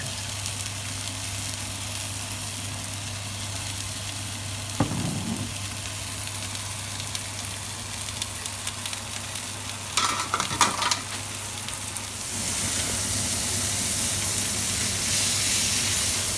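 Fillet steak sizzles in a hot griddle pan with garlic and oil, a steady low hiss throughout, a brief flare when the meat is moved, scattered crackles, and a louder rush of sizzling near the end.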